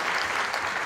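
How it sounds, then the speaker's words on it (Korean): Brief audience applause at a founding assembly event, a steady wash of clapping from a crowd at moderate distance, lasting under a second. "박수 한번 주시기 바랍니다."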